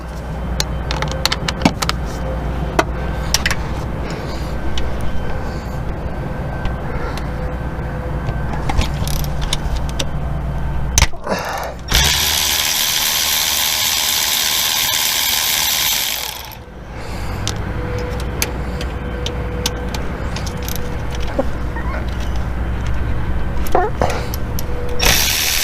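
A ratchet removes 13 mm transmission mount bolts on a 1993 Chevy Camaro Z28, giving rapid clicking bursts and metal clatter up close, with a long stretch of harsh broadband noise midway; speech is heard at times.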